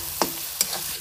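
Masala for pork curry fries in a pan with a quiet, continuous sizzle, and two quick stirring scrapes cut through it close to the microphone, about half a second apart.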